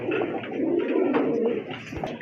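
Rajshahi Giribaz pigeons coo close by in a steady, overlapping murmur of soft, throaty calls, with a few sharper notes near the end and no talk.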